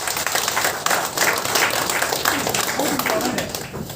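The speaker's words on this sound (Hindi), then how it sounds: "एक तालियां अपने आप के लिए बजाइए।" An audience at an office inauguration in Guwahati claps in a fairly dense, moderately loud wash of applause, with some voices mixed in.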